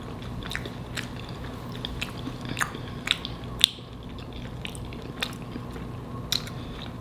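Someone eats a homemade chicken pot pie spaghetti bake close up: wet chewing and soft bites with scattered sharp clicks and crunches, irregular and intimate, no talking.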